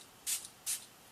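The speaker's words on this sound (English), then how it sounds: "I just hold it 6 inches or so from my face, close my eyes, and spray" Two quick hissing spritzes of facial setting spray in quick succession, close and fairly quiet, with a short pause between them.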